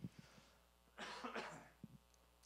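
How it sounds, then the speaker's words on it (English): One person coughs once, a short harsh burst, amid quiet room noise with a few faint clicks before and after. "That was not a COVID-19 cough."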